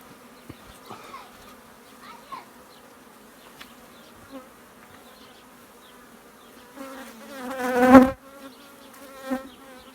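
Honeybees buzz steadily close by, with one loud drone swelling as a bee passes near the ear around the middle, then fading back.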